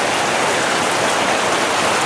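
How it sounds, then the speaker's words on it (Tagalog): Steady rain falling on a camping trip at an abandoned resort in Cavite, a dense, unbroken hiss of drops close by and loud, with no other sounds. "Bad trip, umuulan, no?"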